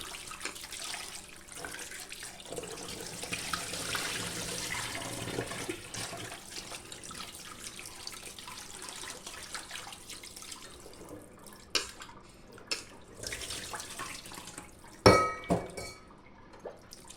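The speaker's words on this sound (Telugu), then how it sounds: "కడిగేసుకున్నామండి చికెను." Raw chicken rinsed under running tap water at a kitchen sink, with steady splashing and trickling throughout, then a few louder clanks and knocks of a bowl or pot near the end.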